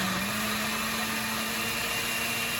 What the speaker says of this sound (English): No, actually I choose liquefy on our blender here.